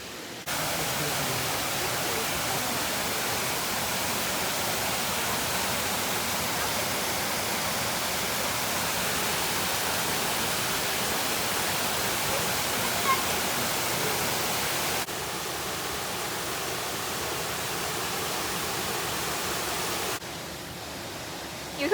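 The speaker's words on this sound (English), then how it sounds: "that's what Mosquito Falls is" Mosquito Falls at Pictured Rocks pours in a steady, loud broadband rush of falling water that fills the whole stretch, with a brief drop in level partway through and no voices over it.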